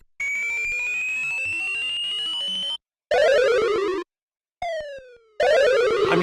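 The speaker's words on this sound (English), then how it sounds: "this one here, like Pac-Man dying." ZX Spectrum computer game sound effects, including a Pac-Man death jingle: grating chiptune bleeps, a long steady tone, then bursts of descending buzzy sweeps separated by short silences, loud and alone.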